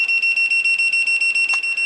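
Steady, rapid electronic beeping from a radio controller or simulator, a piercing repeated tone pulsing about eight times a second, loud and close with no talk over it.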